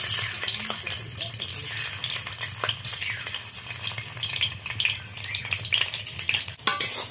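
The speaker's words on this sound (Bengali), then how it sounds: "বাকিগুলো একই রকম ভাবে ভেজে নেব" Flour-battered vegetables fry in oil with a dense, crackling sizzle, while frequent scrapes and clinks of a utensil sound against the pan.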